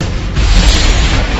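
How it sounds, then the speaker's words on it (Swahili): A loud bomb explosion from an action film, a deep, roaring boom that swells sharply and sustains with a dense rumbling wash through its short span, no voices. "Hili ni bomu sio mtoto."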